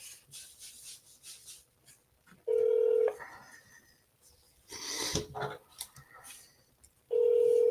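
Long distance telephone call being dialed: two steady electronic tones, each lasting about half a second, sound several seconds apart, with faint handling noise and rustling between them.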